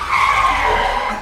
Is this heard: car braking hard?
yes